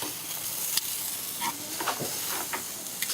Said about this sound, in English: let that be on the grill